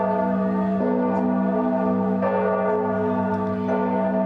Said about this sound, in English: as the bell rings on our Halloween festivities